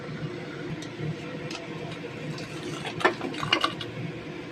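Date palm jaggery goes into milk and rice pudding simmering on the stove, with a low steady bubbling hiss and a few soft clinks of stirring near the end.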